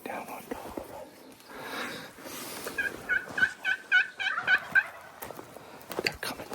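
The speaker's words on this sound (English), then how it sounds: "we've got turkeys right over the ridge from us" Wild turkeys gobble from just over a desert ridge, a rapid series of rattling calls a little distance off, heard between hushed whispered voices nearby.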